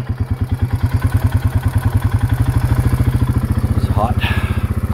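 A small engine with its throttle raised works through snow, giving a loud, steady, rapid chugging close by for the whole stretch, with a brief higher scrape near the end.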